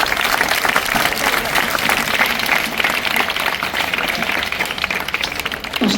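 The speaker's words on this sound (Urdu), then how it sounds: "یہ زوردار تالیاں" Loud, steady applause from a crowd of students and parents at a notebook distribution in an Urdu primary school, dense clapping running for the full six seconds with no break.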